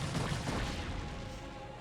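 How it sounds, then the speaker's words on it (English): Archon explosions in StarCraft: Brood War, a dense, continuous rumble of blasts and crackling battle effects at steady loudness throughout, with no gaps. "Archon explosions are violent"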